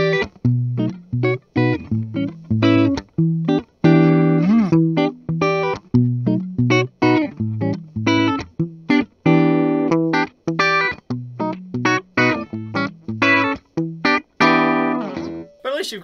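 A Richie Faulkner Flying V electric guitar with active EMG pickups and a Floyd Rose tremolo plays a heavily distorted riff, loud and close, with chugging palm-muted notes broken by short gaps and ringing chords.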